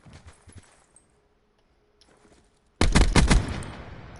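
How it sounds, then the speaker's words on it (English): A single loud, booming shotgun blast at skeet shooting, preceded by quiet outdoor rustling and faint clicks, then ringing out near and strong with a short decaying tail. "Here, some skeet shooting."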